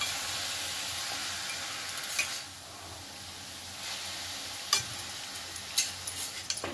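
Dill greens and soaked moong dal sautéing in a pan make a soft, steady sizzle, with a few light clicks and scrapes of stirring scattered across it and no voices.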